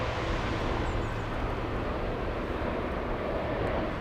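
An Ethiopian Airlines jet at Frankfurt airport gives off a steady, broad engine roar. The rumble stays constant and fairly loud throughout, with no speech.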